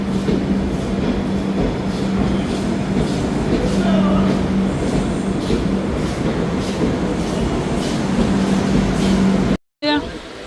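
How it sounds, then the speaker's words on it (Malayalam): A train pulls into a railway station with a steady, loud rumble of wheels and carriages and a faint clickety-clack, while people talk over it and a brief cut comes near the end. "ട്രെയിൻ വന്നു ഗൈസ് ഞങ്ങൾ ട്രെയിൻ കയറാൻ പോകുന്നു"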